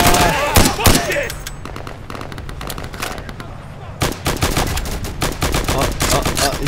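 Gunfire rattles through a multiplayer match of the video game Insurgency, loud rapid bursts and single shots with a calmer stretch in the middle, while players shout over it.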